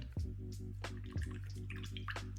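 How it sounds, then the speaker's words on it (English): Paint brushes being rinsed in a water cup after miniature painting, with soft repeated swishes and drips over a steady low hum of music. "I'm gonna go ahead and clean my brushes."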